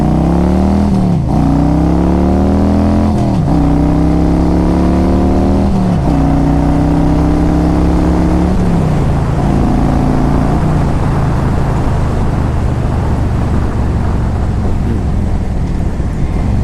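A 2000 Harley-Davidson Road King Classic motorcycle engine, noted as stuttering slightly when cold, runs loud and near, rising through several rev-ups and gear climbs, each dropping back before building again.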